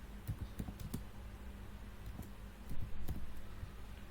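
Typing on a computer keyboard, with quick uneven clusters of light key taps and a brief louder burst near the end, close by and without speech.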